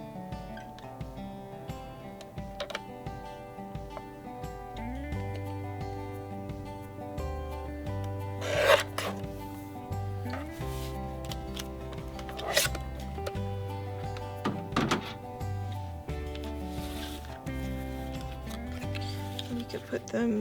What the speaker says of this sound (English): we're just going to cut this in half